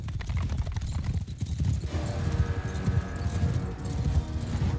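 Cavalry horses galloping in a charge in the Mount and Blade Bannerlord video game, a dense continuous rumble of hooves with clattering and battle noise throughout.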